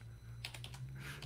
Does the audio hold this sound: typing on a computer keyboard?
yes